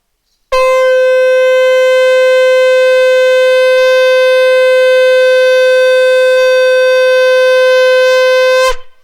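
A single loud, sustained conch blast with a pure harmonic tone, holding steady for about eight seconds before cutting off.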